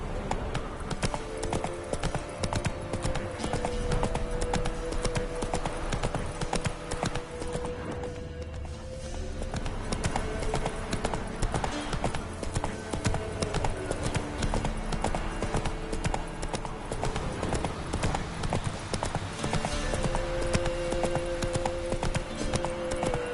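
Hooves of Roach the horse pound in a fast, continuous galloping rhythm in The Witcher 3, with a short dip in the middle before the clatter resumes at full pace.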